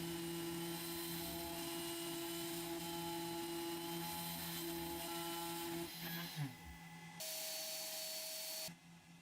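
A TTC450 CNC router with a 500W spindle mills aluminium, making a steady, loud whine with a constant tone. Near the end the pitch drops and shifts as the spindle changes speed, then cuts out abruptly.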